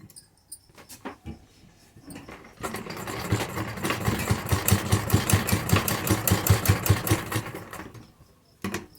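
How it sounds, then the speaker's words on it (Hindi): Sewing machine stitching a lace strip onto a kurti neckline: a few scattered clicks of setup, then a rapid, even run of needle strokes for about five seconds, close and steady, before it stops and a short final burst follows. "सेंटर में हम एक सिलाई से इसे अटैच कर देंगे कुर्ती के ऊपर।"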